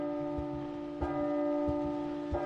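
Bells in the video game P.T. (Silent Hills) chime with sustained ringing tones, struck again at regular intervals about a second apart, clear and moderately loud with no talking.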